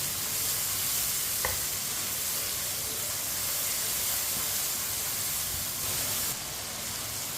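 Tomatoes cook in a hot pan for a turnip and spinach dish, giving a steady, close sizzle and hiss throughout with a brief stir partway.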